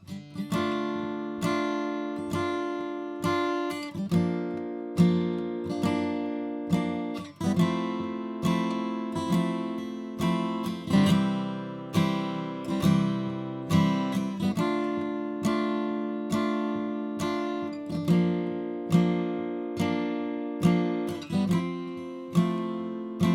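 Acoustic guitar chords strummed steadily at a brisk tempo, a bright rhythmic pattern with chord changes every couple of seconds, close and clear, no voices.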